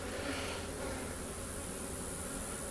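Around an open hive, a dense, even hum of honeybees continues without a break, close and unchanging, with no voices.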